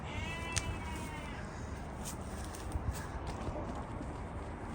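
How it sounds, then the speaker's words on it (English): Small Ouessant sheep, the smallest bred sheep breed, bleat on a permaculture farm. A single clear bleat comes early, with a couple of fainter calls later over a steady outdoor background. "They're actually the smallest sheep that are bred."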